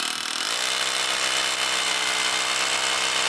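A power drill boring holes in concrete, a harsh high-pitched whining grind that spins up within the first half second and then holds steady and loud.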